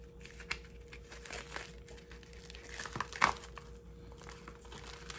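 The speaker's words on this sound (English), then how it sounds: "Okay, let's open these. Here's first package." A plastic package from an overseas order is torn open in a quiet room, giving soft crinkling and rustling with a few sharper tearing snaps close by.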